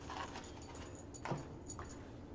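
Two puppies make soft, faint whimpers and whines indoors, brief high cries rising over a steady low background hum.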